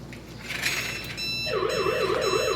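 Xiaomi Gateway 3 smart home hub sounding its alarm in a living room, a loud wavering siren-like electronic tone that starts abruptly partway through and continues to the end.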